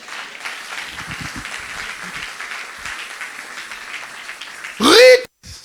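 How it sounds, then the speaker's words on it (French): A church congregation applauds and cheers in praise, a steady wash of clapping that continues throughout, ending in a brief loud burst of sound. "Est-ce qu'on peut acclamer le Seigneur?"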